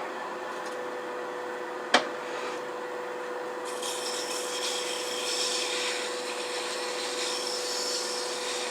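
Sanding a turned wooden Nordic gonk ornament spinning on a lathe, a steady close rasping hum with a faint tonal whine, one sharp knock early on and a slightly rougher scratching texture later.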